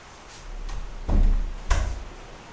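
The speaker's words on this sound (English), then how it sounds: "I had to close this door because it's raining" Door being closed on a rainy day, giving a few soft bumps and a firmer thud near the end, fairly close and with no voices.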